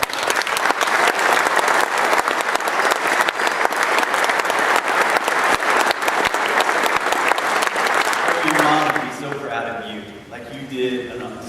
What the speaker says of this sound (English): just to celebrate and to clap and to cheer